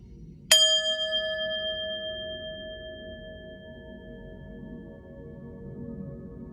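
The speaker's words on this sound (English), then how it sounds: "I'm gonna hit the bell, clear your energy" A single struck bell rings out once with a bright, sustained metallic tone that slowly fades over several seconds in a quiet room.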